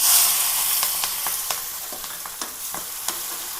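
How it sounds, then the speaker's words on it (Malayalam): Chopped onions, green chillies and garlic fry in hot oil in a pan, giving a steady close sizzle broken by the sharp scrapes and taps of stirring, with no voices. "ചട്ടി വെച്ചിട്ടുണ്ട് എണ്ണ ഒഴിച്ചിട്ടുണ്ട് എണ്ണ കാനിട്ടുണ്ട് നമുക്കതിലേക്ക് മൂന്നാലഞ്ച് ഉള്ളി രണ്ട് പച്ചമുളക് രണ്ട് മൂന്ന് വെളുത്തുള്ളി"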